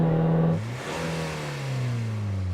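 An off-road car engine in a drag-race launch, held against a soft limiter at 3,500 RPM: a loud, steady rev that drops in pitch, then climbs again as the car pulls away, with no talk over it.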